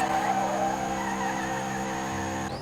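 A 1500 horsepower street drag racer engine in the video game Street Legal Racing idles and hums loudly and steadily, with a strained tonal whine throughout and a brief shift near the end.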